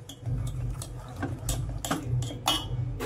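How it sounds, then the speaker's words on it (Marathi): A bowl of jaggery goes into a pot of kokum kadhi with a scatter of light clinks and taps of metal utensils against cookware, faint and irregular over a low background hum. "आता आपण याच्यामध्ये जो एक वाटी गूळ घेतलाय तो टाकून घ्यायचा आहे"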